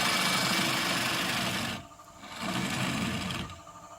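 Half-inch Rockwell Power bowl gouge cutting a sycamore bowl on a spinning wood lathe, a loud close rasping shear that breaks off briefly and then resumes before tapering away, no talk.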